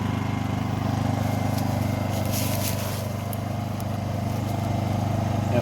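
Honda generator engine running rough with the choke on, on a farm: a steady, close, loud low mechanical drone with an uneven, slightly lumpy pulse and no talk over it.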